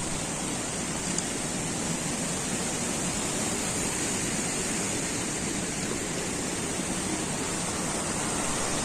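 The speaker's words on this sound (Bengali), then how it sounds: "পাহাড়ি নদীর কলকল শব্দে মনটা ভরে গেছে।" A mountain river beside a forest trail near Timbure on the Sandakphu trek, rushing in a steady, dense wash of water that stays even and unbroken, with no voices.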